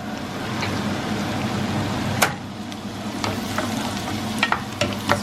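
Garlic and butter sauté in a hot pan alongside chicken, with a continuous crackling sizzle and occasional sharp utensil clicks from stirring, close-up and unvoiced.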